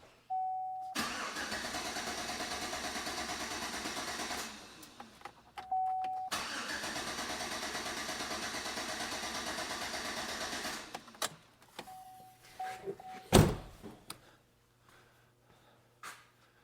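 A Chevy Silverado with a suspected fuel pump fault cranks repeatedly without starting: long steady whirring starter bursts separated by pauses, a chime ringing between attempts, then a sharp clunk and a few faint clicks.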